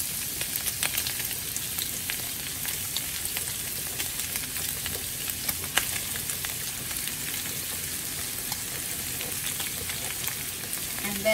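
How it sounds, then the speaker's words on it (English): Onions fry in a little oil in a pan, giving a constant, even hiss of sizzling. The crackle is close and unbroken throughout, with no voices. "I'm going to add the onions."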